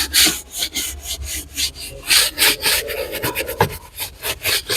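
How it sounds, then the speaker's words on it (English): A cloth rubs gently over leather car interior trim during cleaning, giving close, repeated soft rasping strokes in an uneven rhythm, heard alone without talk. "You don't even damage this leather that you see here. As you can see, I'm not like rubbing it too much."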